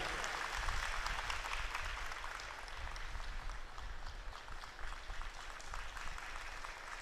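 Steady, dense applause fills a medal ceremony in Vrindavan as a crowd claps continuously, heard somewhat distant and even in level throughout.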